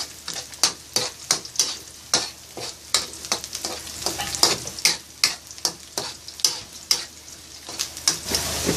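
Ingredients sautéing for ginataang kalabasa, a Filipino squash and coconut milk dish with string beans and shrimp, sizzle steadily in a pan while a utensil scrapes and stirs in quick, regular strokes throughout, close and fairly loud.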